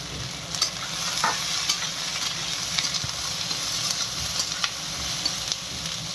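Green chillies and onion frying with garlic in a pan for a stuffed bitter gourd dish, a steady close hiss of oil with scattered crackles and occasional scraping stirs, no talk.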